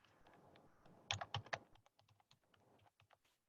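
Keys clatter on a computer keyboard while text is typed into a Microsoft Word document. A quick burst of sharper strokes is followed by lighter, irregular taps, all faint and close with no talking.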